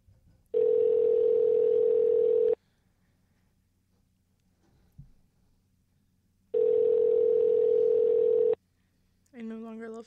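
Telephone ringback tones on a line, two long steady buzzing bursts about two seconds each with quiet gaps between, followed by a brief voice at the end.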